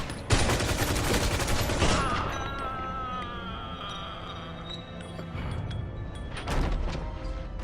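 Gunfire in a Mafia 2 video game cutscene: a loud burst of rapid shots up front, then a sustained ringing, tonal tail, with another heavy burst near the end.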